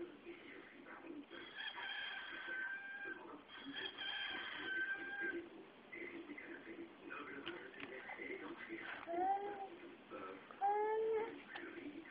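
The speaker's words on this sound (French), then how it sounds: "Oui, un coq." A rooster crows twice, fairly distant, under background chatter and other farmyard noise.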